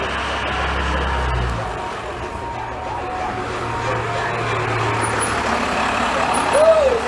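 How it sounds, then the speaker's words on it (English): A large FedEx delivery truck engine rumbles nearby, with a hiss of air brakes and a brief beep near the end, over steady outdoor noise. "We got the FedEx truck coming."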